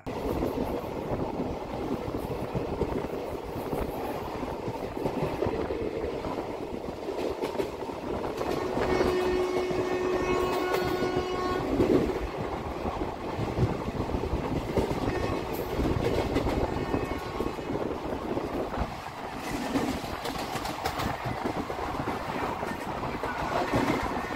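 The 13113 Kolkata–Lalgola Hazarduari Express passing through Kasimbazar station without stopping, a loud continuous rumble of rolling carriages with rhythmic wheel clatter, a brief steady horn tone partway through.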